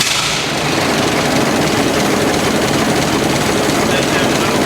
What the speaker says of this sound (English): see if we have enough air left to crank this over